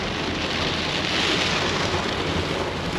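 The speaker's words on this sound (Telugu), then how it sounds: "ఇంత దారుణమైన వాన బాబోయ్" Heavy rain pours down on a flooded highway in China in a loud, unbroken roar, dense and close, with no voices.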